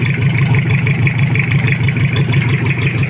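A Toyota Kijang diesel engine idling just after an overhaul, a loud, steady rumbling drone with constant clatter and no speech.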